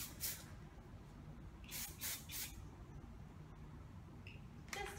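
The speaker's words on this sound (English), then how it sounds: "You can just spray it and you can tease it." Short bursts of hairspray hiss as hair is sprayed while styling soft curls, several quick spritzes separated by quiet pauses, close and fairly faint.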